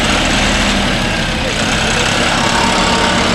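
A John Deere 5405 4WD tractor engine runs close by with a loud, steady, unbroken drone and rumble from start to end, with no clear voices over it.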